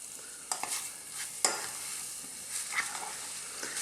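Thai pork fried rice is stir-fried in a pan, with a steady close sizzle and occasional scraping knocks of the utensil against the pan.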